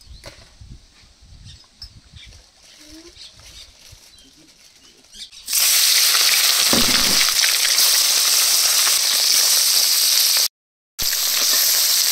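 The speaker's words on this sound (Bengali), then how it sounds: "প্রথমে টকের মাছগুলো ভেজে নেব।" Fish rubbed with salt and turmeric frying in oil in a village kitchen, a loud steady sizzle that bursts in around midway and holds continuously after a quieter stretch with faint background sounds.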